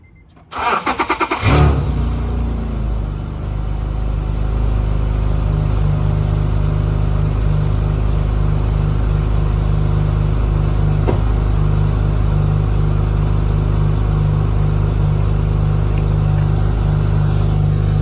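A truck's car engine cranks and fires up after a brief whir, then settles into a loud, rumbling idle with slight revs, close and steady for the rest of the span, no talking.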